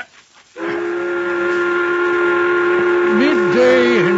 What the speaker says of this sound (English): The whistle has blown.